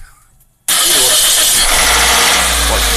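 A Toyota Avensis engine cranks and catches after a short quiet moment, then settles into a loud, steady idle close by, with no talk.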